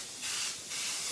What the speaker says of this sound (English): If I do have an issue, like when I'm spraying, and for whatever reason it clogs up and maybe it stops coming out, I can actually push this down